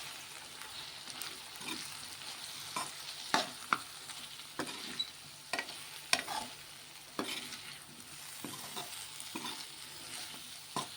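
Eggplant, broad bean and raw mango curry with chili powder simmers in a pan while a spoon stirs it, giving a steady soft sizzle with a dozen or so sharp scraping strokes at irregular intervals.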